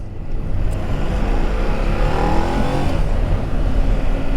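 A Ducati Desert X adventure motorcycle with a nearly new engine pulls through its mid-range. The loud, continuous engine roar stays close and strong throughout, with no voices.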